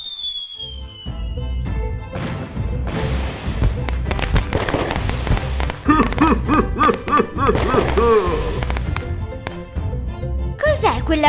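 Cartoon fireworks in a children's police animation burst in a dense, loud crackling barrage with whistling rises, near and continuous, as character voices talk over the popping.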